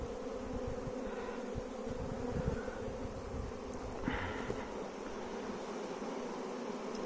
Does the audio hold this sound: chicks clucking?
no